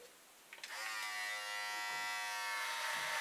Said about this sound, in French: ce que je veux faire, c'est me raser.